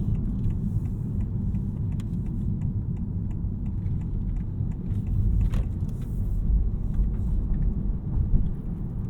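A 2026 Honda Prelude rolls over a bumpy road with occasional joints: a continuous low road and engine rumble with faint rattles and a few soft thumps from the suspension.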